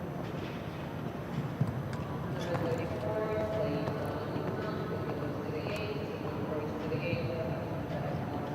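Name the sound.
horse hooves clip-clopping on showjumping course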